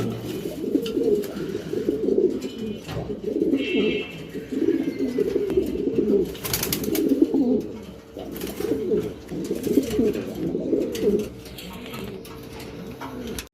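Racing pigeons, a pair of females, coo in repeated low throaty phrases close by, with faint chirps from other birds and a voice talking intermittently over them.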